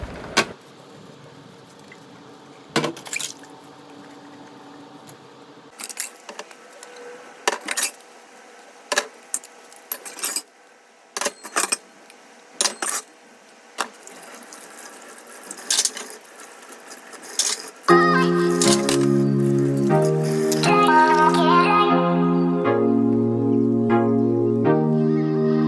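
Utensils are washed by hand in a home kitchen, with intermittent clinks and clatters of metal and dishes at close range, before music swells in near the end.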